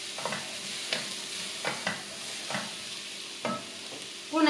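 Onion and pepper frying in a little oil get stirred in a pan, with several distinct scraping strokes over a soft steady sizzle, close and clear.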